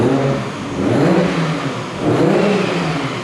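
A tuned Nissan GTR R34 engine on a dyno revs hard in two loud, close surges, the roar climbing and falling with a rough mechanical whir throughout.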